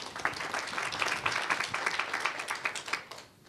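An audience at a technological education forum claps in a dense, lively burst of applause that stays steady before fading away at the end.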